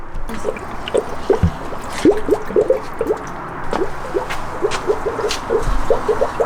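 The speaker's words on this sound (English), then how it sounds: "we are going to fill up the new radiator with the 50/50 coolant and distilled water blend" A 50/50 coolant and distilled water blend glugs and splashes as it is poured into a new Koyorad car radiator, giving irregular close gurgles and drips.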